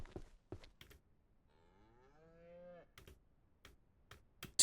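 A single drawn-out cow moo from the ranch video game Southwest Ranch Simulator, quiet and mid-distance, set between scattered soft clicks and ticks.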